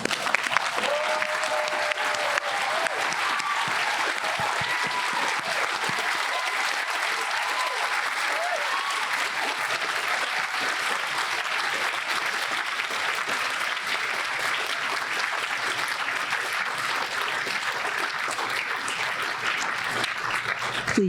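Sustained applause from a large crowd at the Reed College 2021 commencement, a dense, even wash of clapping that holds steady for about twenty seconds with no break.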